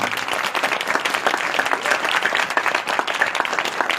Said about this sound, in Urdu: جتنا زیادہ خوش ہیں اتنی زیادہ تالیاں ہو جائیں گے خدا کے نام